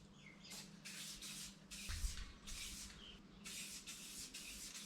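Coating sprayed inside the trunk of a 1951 Chevrolet Fleetline, short hissing bursts repeated at a steady pace, quiet and close, with no speech.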